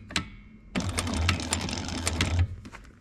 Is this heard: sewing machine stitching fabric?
yes